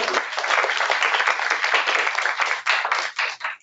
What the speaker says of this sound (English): I always like to applaud beforehand for our panelists. So please, let's welcome our panelists.